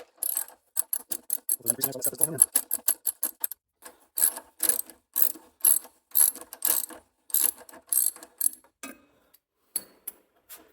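A ratchet handle turns a Helicoil thread tap in the stripped spark plug hole of a snowblower engine, clicking in rapid close bursts of ratcheting strokes separated by short pauses.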